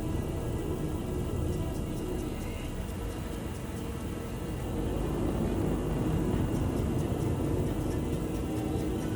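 Steady low rumbling drone of a spaceship flying under thrust in the space game Star Citizen, a continuous engine roar that swells slightly toward the end, with no talking.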